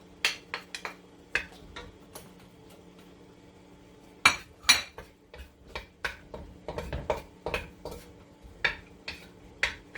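Metal utensil clinking and scraping against a pan while garlic and onions brown in hot oil for a shrimp and vegetable stir fry, giving sharp irregular taps and knocks over a quiet background.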